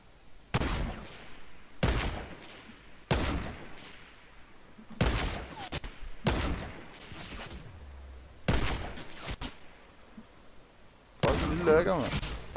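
Gunfire in Fortnite Battle Royale: loud bursts of shots repeat every second or so, each a sharp volley that fades before the next, with a heavier burst at the end.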